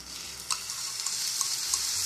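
Whisked sour yogurt goes into a pan of doi katla fish curry over a low flame, giving a faint, steady sizzle with a few soft clinks and splashes.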